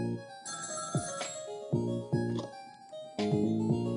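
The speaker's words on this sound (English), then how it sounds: "And the phone rings." Telephone ringing in the video game Ghost Trick: Phantom Detective, a synthesized electronic ringtone with repeating melodic bursts, clear and steady throughout with no voices.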